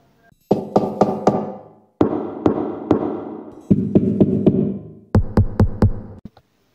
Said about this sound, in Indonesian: sebuah ketukan di jendela kayu kamar Yudi